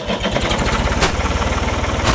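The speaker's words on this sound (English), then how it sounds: "See how fast this lift goes up on this tractor?" A used tractor's engine runs steadily with a fast, throbbing rumble close by, its hydraulic lift raising under load without pause.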